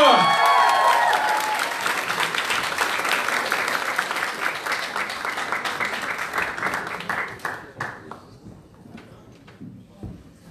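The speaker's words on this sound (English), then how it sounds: "Give a huge round of applause for Dr." An audience gives a big ovation to Dr. Hani Al-Banna, founder of Islamic Relief: loud, dense applause with a raised voice at the start, slowly thinning into scattered claps over about ten seconds.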